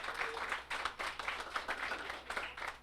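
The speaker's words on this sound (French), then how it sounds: "Bonne main d'applaudissements aux cuisiniers, cuisinières, hôtesses, propriétaires." Guests at an annual Optimist Club brunch give a short round of applause for the cooks, hostesses and owners, faint and somewhat distant, many hands clapping in uneven bursts.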